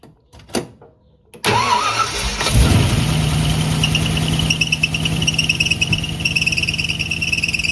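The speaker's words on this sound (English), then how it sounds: "Let's crank it up, see if we got any squeal, and see how that belt looks." A Ford Y-block V8 with a new alternator bracket and belt cranks briefly after some quiet clicks, then catches and settles into a loud, steady idle close by, with no talking.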